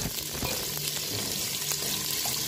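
Cabbage and onion sizzle in a pan as they are stirred, a steady frying hiss with a few scraping spatula strokes over a short stretch and no voices.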